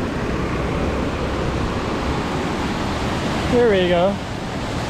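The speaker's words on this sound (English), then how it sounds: "The big waterfall in Ella." Steady broadband rush of a large waterfall in Ella, Sri Lanka, fills the clip, with a brief spoken remark near the end over the continuous roar.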